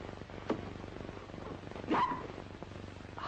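A small dog barks twice, briefly and sharply, with a short bark near the start and a louder one a little later, over a faint steady background hum.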